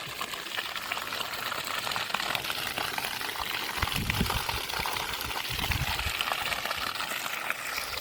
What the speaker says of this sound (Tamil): தண்ணியோட ப்ரெஷர் வந்து பார்த்திங்கன்னா மீடியமாக வந்துட்டுருக்கு ரெண்டு தூரம் போய் விழுந்துட்டுருக்கு